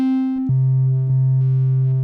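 A Make Noise 0-Coast synthesizer plays a steady bass tone that drops in pitch after half a second and then drones on, thick and buzzy with bright harmonics, loud and alone.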